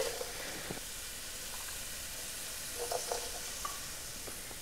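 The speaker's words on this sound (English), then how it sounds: "the vegetables have been sauteing and they're really soft and flavorful" Onion, celery and carrot sauté in a soup pot, giving a faint, steady sizzle and hiss with a few soft scraping stirs; no voices.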